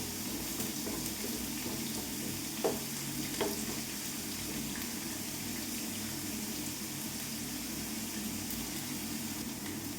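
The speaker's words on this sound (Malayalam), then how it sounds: "കടുകൊന്ന് പൊട്ടട്ടെ." Mustard seeds spluttering in hot oil in a pan while making samosa filling: a steady low sizzle with a couple of distinct sharp pops early on, and no talking.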